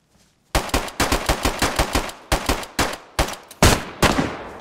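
Rapid gunfire in a video game, a loud close burst of sharp repeated shots in quick uneven rhythm, starting after a short silence and continuing with brief pauses.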